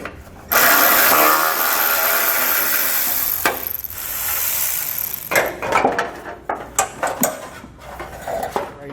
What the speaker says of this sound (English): So I'm going to use an 8mm socket and pull all of the nuts out.